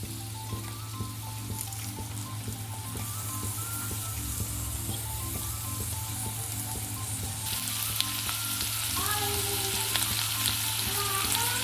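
Chopped onions sizzle in hot oil in a pan, a loud steady frying hiss close by, with occasional stirring clatter and the crackle growing brighter partway through.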